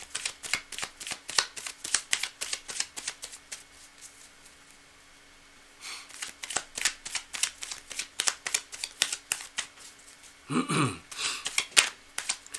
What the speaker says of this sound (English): I'm going to shuffle a little bit more